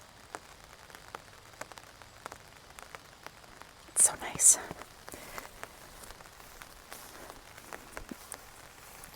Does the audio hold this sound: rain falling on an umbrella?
yes